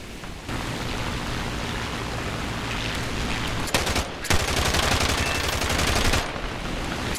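Gunfire in War Thunder while a plane is shot down, heavy continuous bursts of rapid automatic fire that stop briefly partway through, then resume loud and close before cutting off.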